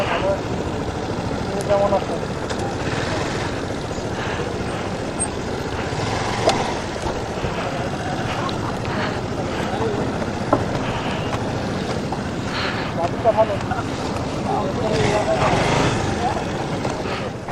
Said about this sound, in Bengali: আমরা এখন নৌকা করে এই জাদুঘাটা নদীর এই অংশটুকু পার হচ্ছি